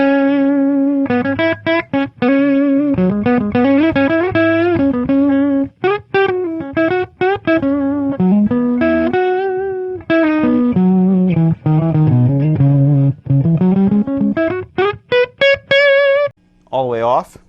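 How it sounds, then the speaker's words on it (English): Distorted electric guitar played through a Fretgood preamp with no amp, a dark, muffled tone with heavy low end, plays a run of notes and chords, loud and close, with short gaps between phrases. "I'm going to darken this up a lot and see how we get some kind of more muffled tones."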